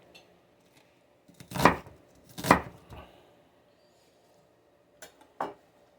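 Two sharp knife chops on a cutting board as vegetables are cut, then a pause and two lighter chops, close and clear in a quiet kitchen.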